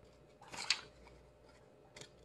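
Scissors cutting paper for a homemade toy truck craft: a couple of quick snips close by, one sharper cut near the middle and a softer one at the end, with no talking.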